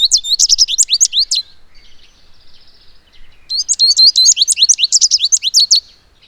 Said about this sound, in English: Finch equals sweet melody.